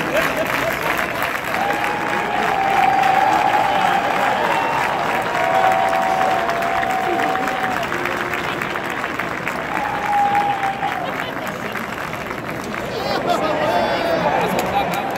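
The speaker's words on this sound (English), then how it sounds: "There they go, gotta start clapping." A large crowd at Yankee Stadium claps steadily through a baseball game, the applause dense and continuous with crowd chatter and cheering mixed in, loud and close all around.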